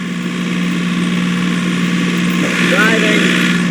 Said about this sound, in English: I'm out on a tractor.